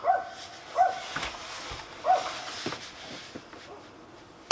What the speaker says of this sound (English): There's somebody walking past with a dog and Teddy's yapping at them.